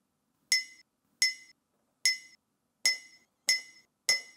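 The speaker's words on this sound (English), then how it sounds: "we have a sound of a mug. This is a sound of a mug." A mug is tapped six times, each a bright, ringing clink that decays quickly, evenly spaced and close, with silence between strikes.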